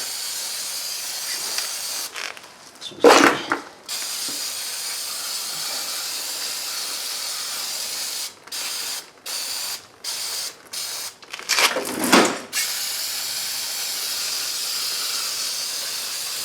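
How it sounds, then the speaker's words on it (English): Brake cleaner sprays in a long steady hiss onto the rear brakes of a 2011 Toyota Sienna, broken by short pauses, repeated quick bursts and a couple of metallic clanks of handling. "I'm just going to clean and brake clean, of course, chemical of 1001 uses"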